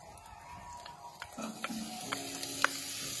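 Pancetta hitting olive oil in a well-heated pan for a puttanesca: near-silence, then a quiet sizzle rising after a second, with scattered small clinks and ticks over it.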